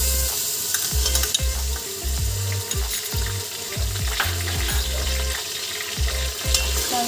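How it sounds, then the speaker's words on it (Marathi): Ginger garlic paste, about one and a half spoons, hits golden onions in a pan while cooking chicken biryani, giving a steady loud sizzle with repeated scraping stir strokes throughout, no voices. "याच्यात आपण आता अद्रक लसणाची पेस्ट घालून घेऊ."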